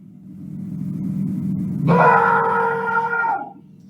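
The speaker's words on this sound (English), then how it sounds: "you don't have to scream like that" A young girl screams and cries loudly at close range, a sudden wailing outburst that breaks over a low background rumble, holds for about a second and a half, then drops off.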